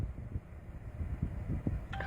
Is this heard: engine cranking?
no